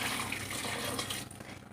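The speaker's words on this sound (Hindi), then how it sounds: "अब मैं इसमें ये गर्म पानी डाल देती हूँ।" Hot water poured from a vessel into a cooking pot of saag sarson, a steady splashing rush that fades over its last moments, close and fairly loud, with no voices.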